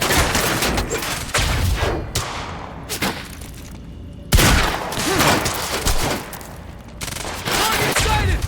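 Gunfire in the video game Quantum Break, with heavy repeated bursts of shots and booming impacts in loud sustained stretches, broken by short lulls, with shouted voices mixed in.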